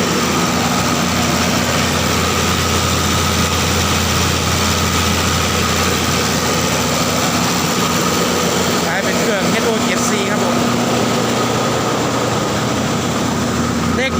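A Komatsu PC120-3 excavator working a laterite pit has its engine running at a steady idle, a close, constant mechanical drone with a fixed hum and no pauses.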